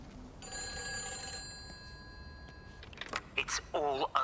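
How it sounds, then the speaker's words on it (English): A telephone rings inside an agricultural wholesale warehouse in the game Everybody's Gone to the Rapture, a sustained electronic bell tone that cuts off, followed by faint speech. "Telephone's ringing."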